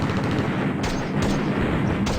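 Machine gun fire in the WW2 war game Steel Panthers WW2, loud rattling bursts with sharp reports and booming impacts, several distinct cracks over a dense continuous barrage.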